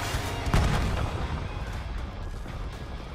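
A frag grenade goes off in a Call of Duty multiplayer match, one muffled low boom about half a second in, then a dull rumbling tail that slowly fades over steady game noise.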